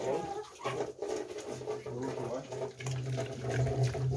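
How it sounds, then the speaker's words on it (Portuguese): Water being poured into a bowl of rice flour mixture, a continuous splashing trickle mixed with a low hum and background noise. "Tô pondo um pouco de água aqui, que eu acho que eu fui farinha de arroz demais."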